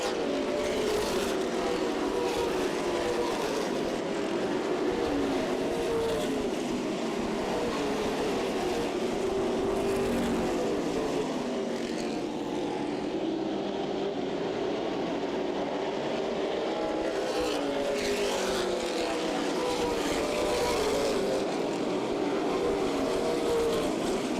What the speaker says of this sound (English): Kyle Busch continues to lead in the NOS Energy Drink 51, crossing the line at lap number 33.